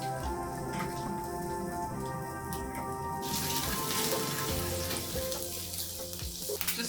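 Eggs frying in a small amount of hot oil with paprika for potato and egg chops, a steady close crackling sizzle with scattered pops that grows a bit busier midway.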